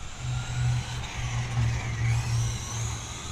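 A GPToys S916 1/12-scale two-wheel-drive RC buggy whines steadily as its electric motor revs and the wheels spin out, a close, continuous high buzz pulsing with throttle changes.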